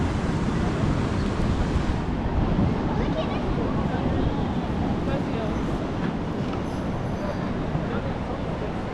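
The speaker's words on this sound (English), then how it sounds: "They are mental, them waves today." Big sea waves crash and churn along the shore at Torrevieja, a loud continuous roar of surf mixed with wind buffeting the microphone throughout.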